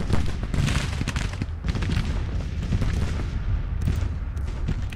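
Rifled 3-inch Civil War artillery guns fire in the Grand Tactician: The Civil War battle game, dense overlapping booms and gunfire rolling continuously and loudly in a sustained barrage.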